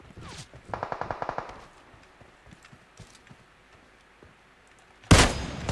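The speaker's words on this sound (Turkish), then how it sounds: "Oo bana her yerden sıkıyorlar şu an" Bursts of automatic gunfire in PUBG Mobile: a rapid string of evenly spaced shots up front, scattered lighter pops after, then a loud close blast near the end.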